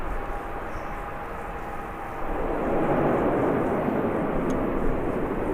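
An ATR turboprop airliner at Birmingham Airport produces a broad, steady engine roar. The roar swells louder about halfway through and holds as a full, continuous rumble, with no voices.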